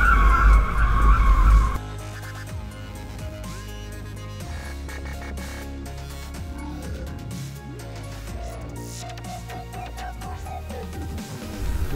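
A car skidding during SKIDCAR safety driving training, a loud tire squeal and engine roar at first, then a long wavering squeal of tires sliding across the surface, continuous and close.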